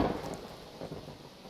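Rain and rolling thunder from a storm in the city-building game The Universim, a steady wash of rainfall with a low rumble swelling near the start and again partway through, moderately quiet, with no talking.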